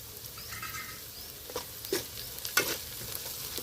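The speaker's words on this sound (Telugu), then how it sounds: "కరివేపాకు వేసుకుందామండి." Curry leaves crackle and sizzle in hot oil in a pan while being stirred for potato kurma, with a steady frying hiss and a few soft scraping stirs close by and no talking.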